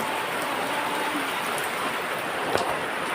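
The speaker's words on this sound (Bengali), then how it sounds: "তো দেখছেন কতটা বৃষ্টি হইতেছে, আমার ভিজায় ফেলতেছে।" Heavy rain pours down steadily outdoors, a dense continuous hiss of drops with one brief louder tap or splash near the end.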